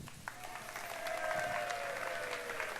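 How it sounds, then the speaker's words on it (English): A comedy show audience on a cruise theme gives a round of applause, a steady wash of clapping swelling slightly midway and holding for about three seconds at moderate distance. "by a round of applause, how many people have been on a cruise?"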